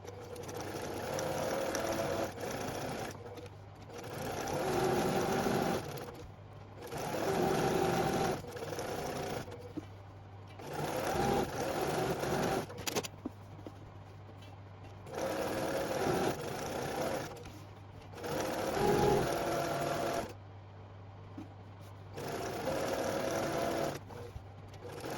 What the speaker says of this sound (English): let's go stitch that up